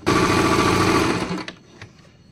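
Usha Janome Stitch Magic sewing machine stitching a close embroidery-like pattern, a steady loud motor whir with rapid needle clatter that stops after about a second and a half, leaving a few faint clicks.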